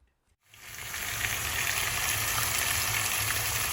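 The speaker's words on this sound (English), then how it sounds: "So we have the pork chops cooking, the green beans cooking, and the corn going." Pork chops frying in a pan, a steady close hiss and sizzle that starts abruptly after a brief silence and continues evenly, with no talking.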